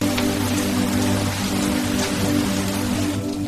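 Steady rain falls on a mountain cottage in the Ooty hills, a continuous close hiss of drops on surfaces with a low background hum, no voices.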